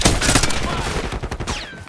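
Gunfire in Call of Duty Black Ops 6 on PS5: quick bursts of rapid shots crackle close by in a dense cluster, followed by sparser pops and a bit of game chatter.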